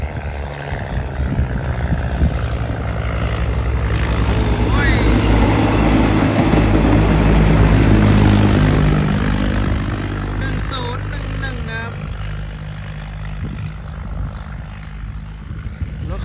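A new train rolls in through rain with a deep, heavy rumble that swells to a loud peak and then eases off, with voices faint beneath it.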